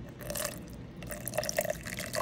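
Water pouring into a G-Fuel energy drink mix (Spider-Verse flavor) gives a steady close splash and trickle with small drip accents, continuous for about two seconds.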